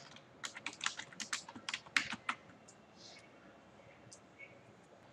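Someone types a name into an online form on a computer keyboard, a quick burst of close, clicking keystrokes that then tapers to a few isolated taps over faint background.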